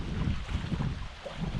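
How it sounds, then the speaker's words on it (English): Steady wind buffets the microphone out on Lake Lanier, a continuous low roaring rush with faint water movement beneath it and no speech. "The wind is really blowing."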